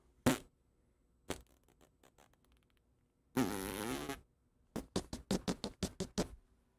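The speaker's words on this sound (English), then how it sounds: "Fart noise." Fart noises in a workshop setting, several short bursts and one longer sputtering blast followed by a rapid string of quick puffs, loud and close with no talk over them.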